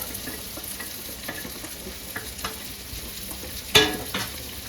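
Sardines with masala sizzling in a pan for mathi chakkara, a steady close fry with several stirring scrapes and a sharp clatter near the end, no voices.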